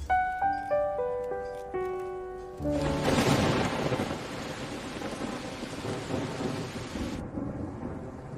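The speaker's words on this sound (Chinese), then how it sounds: "怎么下雨了？" A short melodic tune plays first, then a heavy thunderstorm breaks in with a loud rumble of thunder and steady, dense rain that continues to the end.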